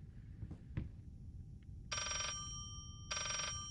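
An old-style telephone bell rings twice in the horror video game Layers of Fear, two electronic trills separated by a pause, heard over a low rumbling ambience after a couple of faint knocks.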